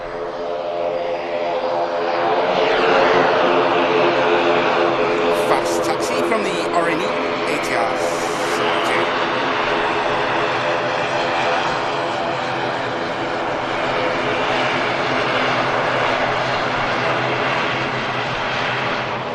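Airliners move around Manchester Airport as an A350 taxies in and an A380 taxies out, their engines a loud, steady, close roar with a broad whine that holds for the whole stretch, while a voice talks over the top.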